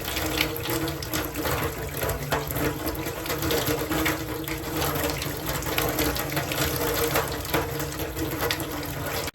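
Hot water runs from a tap fed by a gas-boosted solar hot water system, a loud, steady rushing flow that continues unbroken throughout.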